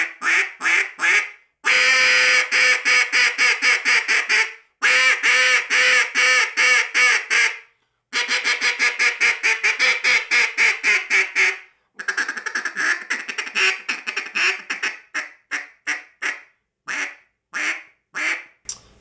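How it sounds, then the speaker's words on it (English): An RNT Calls Daisy Cutter duck call blown in loud, raspy quacking sequences, fast runs of short quacks broken by brief pauses, close and alone with plenty of volume. "So that's the daisy cutter, our probably now our flagship model call, raspy call, has lots of volume"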